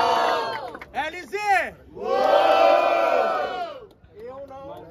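At a Brazilian freestyle rap battle in Cabo Frio, a crowd shouts, cheers and whoops for a competitor in repeated loud chanting bursts, with voices rising and falling close by.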